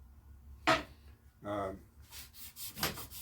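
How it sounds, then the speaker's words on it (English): Quiet scraping strokes of hand sanding on a wooden kitchen cabinet door, a few separate passes with short pauses between, close by and soft. "sanding this piece here to try to meet the quality that they put out"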